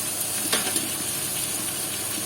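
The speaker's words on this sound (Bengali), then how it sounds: "পেঁয়াজটা আমার ভাজা হয়ে গেছে" Onions sizzling in a pan of oil for a Bengali mutton curry, a steady close hiss with soft crackles, a couple of small pops standing out near the start.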